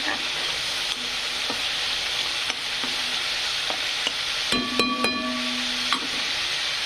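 Masala with grated coconut frying in oil for egg curry, a dense continuous sizzle with spoon stirring taps and a bright metallic clang partway through, no speech.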